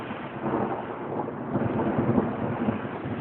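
Low, rolling thunder on a rainy, windy day near a noisy factory, a continuous muffled rumble with swelling peaks, mixed with rain hiss and wind buffeting the microphone.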